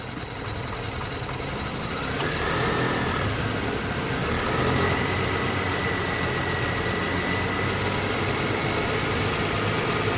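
A 2006 Lexus ES 330 engine idles and then revs up with a steady mid-range hum and a faint rattling knock. The sound is close and continuous, with no voices.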